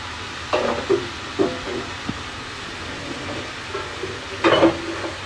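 Egg, papaya and potato stir-frying together in a pan, with a soft sizzle under a few loud scraping stirs at irregular intervals.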